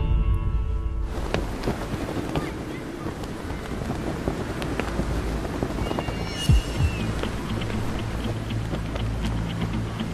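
Steady rain falls with a broad, constant hiss and some wind-like rumble, filling the scene evenly from start to finish.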